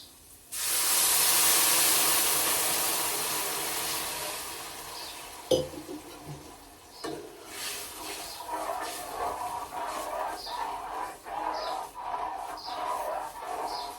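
Hot water poured into a sizzling tempering for upma in a home kitchen gives a loud, steamy hiss for several seconds, then it settles into a softer simmering bubble with a few light utensil clinks.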